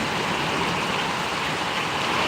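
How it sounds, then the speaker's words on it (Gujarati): Steady, even rain pours down over Parvadi village in Gariyadhar taluka, a dense broadband hiss with no pauses, close and continuous throughout. "લગભગ અડધી કલાક થવા આવી છે આ વરસાદ પડે છે"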